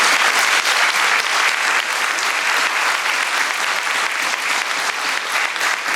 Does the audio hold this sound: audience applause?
yes